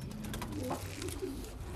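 Domestic pigeons kept in a loft coo softly in low, rolling murmurs over a steady background hiss, the calls faint and continuous.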